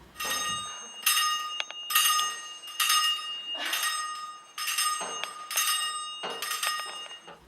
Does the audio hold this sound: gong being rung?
yes